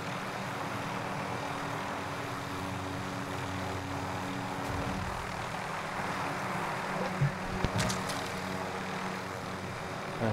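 A helicopter in the video game Call of Duty Warzone drones steadily with a loud, constant engine and rotor rumble, joined by a few brief sharp clicks near the end, with no voices.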